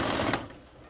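A sewing machine runs a short back stitch, just a couple of stitches, through pillow fabric as a hand guides it: a brief, quick, fairly loud mechanical rattle for about a third of a second that then fades to low hum.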